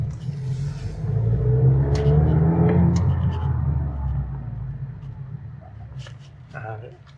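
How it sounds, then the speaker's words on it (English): A Mazda MX-5 ND RF accelerates and then brakes lightly, heard from inside as a low engine rumble that rises and swells, then eases off as the car slows, with small clicks and rattles near the end. "So we'll just accelerate, slight pressure on the brakes"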